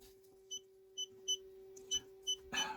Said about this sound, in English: This is the beeper that is running